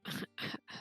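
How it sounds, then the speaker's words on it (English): Three short, raspy bursts, spaced at an even rhythm and heard close and fairly quiet, sounding like a person coughing or clearing the throat. "Cough."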